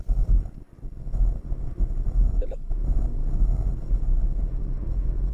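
Strong wind buffets a Skoda Fabia driving on an island at about 80 in sixth gear, a steady loud low rumble of gusts and road noise running throughout without pause.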